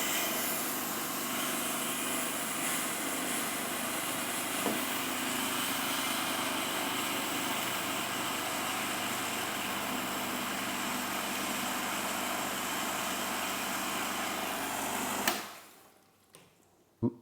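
A Lelit Glenda PL41 Plus espresso machine flushes water to cool its boiler, a steady close pump hum and water rush that runs unbroken for about fifteen seconds before cutting off abruptly, followed by near silence.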